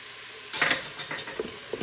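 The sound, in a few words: stirring garlic in a sauté pan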